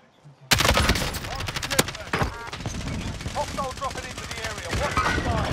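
Rapid bursts of automatic gunfire in Fortnite crackle steadily over several seconds, sharp and close, with someone talking over the shooting.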